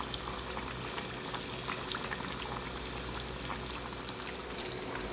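Fish pieces frying in a pan over low heat, a dense steady sizzle and bubbling that holds at an even, fairly loud level throughout with no speech.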